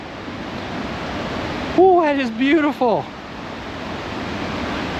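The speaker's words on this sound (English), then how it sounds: "I can hear the sound of the water roaring just like the sign said." Roaring water of Eagle Falls or Deception Falls along Washington's Highway 2, a steady broadband rush heard from nearby throughout, with a person briefly exclaiming over it.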